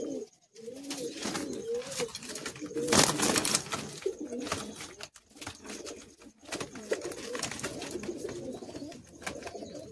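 Kolkata high-flying Madrasi pigeons coo repeatedly inside a loft cage. The soft, throaty calls overlap in steady bursts over about ten seconds, close by, with rustling and a few sharper noises around them.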